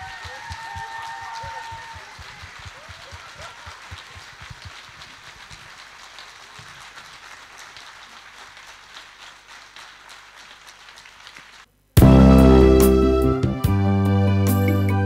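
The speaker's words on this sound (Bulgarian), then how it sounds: "Мисля, че те заслужават вашите аплодисменти" An audience at a musical and poetry show in Balchik applauds in a dense, rain-like patter for about twelve seconds, then the clapping stops and loud music begins abruptly.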